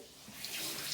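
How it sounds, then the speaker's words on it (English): Running tap water rinses a toothbrush at a bathroom sink, a steady broadband splash that builds slightly over under a second with no voices. "I'm gonna rinse off my toothbrush."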